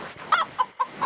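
Chicken clucking in the Minecraft Story Mode video game, a few short clucks in an uneven rhythm, close and clear with no talk over them.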